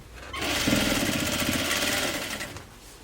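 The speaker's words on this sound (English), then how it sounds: "you're going to do a double stitch around to make sure it's strong" A sewing machine double-stitches around a reversible grocery tote bag, running in one steady, rapid mechanical burst that starts abruptly, holds for about two seconds and then slows and stops.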